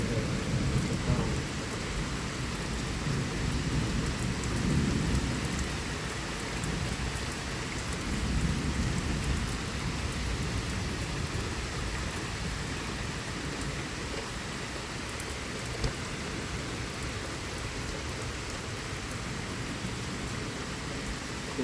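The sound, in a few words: severe thunderstorm with rain and thunder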